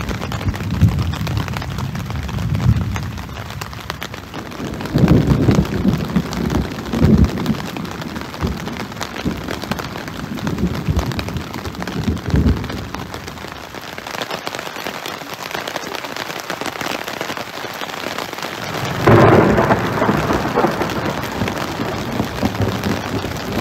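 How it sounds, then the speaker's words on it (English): Steady rain at night with low distant thunder rumbles building at intervals and a louder burst near the end, heard alone with no talking. "there's some lightning out in the distance and thunder, so it's coming."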